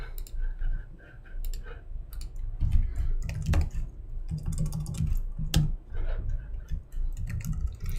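Keys on a computer keyboard clatter in quick irregular bursts while a search word is typed, close and crisp, with soft clicks and pauses between runs.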